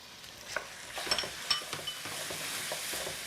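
Onions, tomatoes and tomato paste stirred while frying in a pan for a warm olive salad, giving a steady close sizzle with scattered scrapes and light clinks of a utensil against the pan, no talking.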